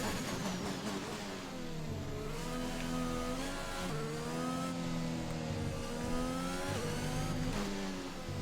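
Race car engines from the F1 2021 video game at the Abu Dhabi Grand Prix whine steadily, with pitch rising and falling through gear changes as a car accelerates and lifts, continuous and fairly prominent.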